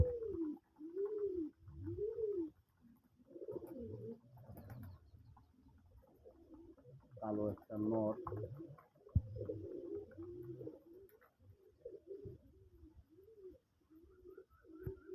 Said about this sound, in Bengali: ওইটা হোয়াইট আকাশি ডাকতে আছে ডাকতে আছে